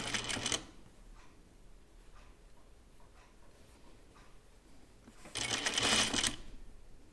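A home sewing machine stitches a seam on a caftan dress in two short bursts of rapid whirring, one at the start and a longer run near the end, with quiet handling in between.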